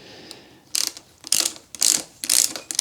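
A 5 mm Allen key works on the handlebar clamps of a KTM motorcycle, producing four loud, close bursts of ratcheting clicks separated by short pauses.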